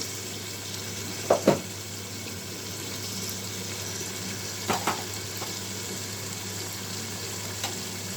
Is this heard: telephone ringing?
no